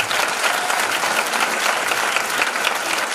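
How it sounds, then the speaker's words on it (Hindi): A seated audience at a sales meeting claps loudly and continuously, a dense wash of applause sustained from start to finish. "हमारे पुराने साथी जब दमदार ताली बजाएं इनके लिए।"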